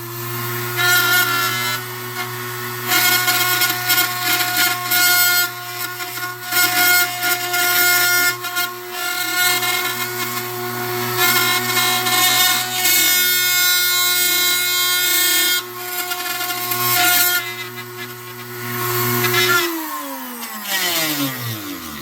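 A power tool runs steadily and loud while plunge cutting wood for aileron ribs on a Caudron aircraft build, with a sustained whine that holds for about twenty seconds before spinning down at the end.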